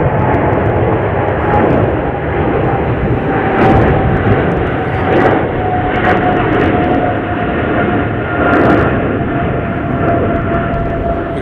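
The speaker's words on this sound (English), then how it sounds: "We got the Emirates coming in here from Dubai." An Emirates airliner arriving from Dubai roars loudly and steadily while approaching Chicago O'Hare International Airport, its jet engine noise filling the whole stretch with a continuous broadband rumble and whine.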